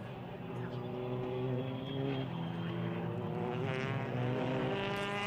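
TCR touring race cars circling the Most circuit during an Eastern Europe race, engines droning steadily in a sustained, layered whine whose pitch shifts slightly as the cars pass at a distance.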